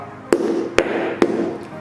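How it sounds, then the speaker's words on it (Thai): Three sharp, evenly spaced knocks strike the steel toe cap of a budget ankle-high safety boot. Each hit is loud and close, with a short metallic ring, about half a second apart. "แล้วก็หัวเหล็กจริงๆ เดี๋ยวผมจะเคาะให้ดูครับ"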